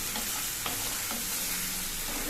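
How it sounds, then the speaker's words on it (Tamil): Finely chopped pirandai sautéed in a pan for pirandai rice makes a dense, constant hiss of frying, loud and close, with a few faint utensil taps and no voices. "பொடியாக கட் பண்ண பிரண்டையும் சேர்த்து நல்லா வதக்கிக்கணும்"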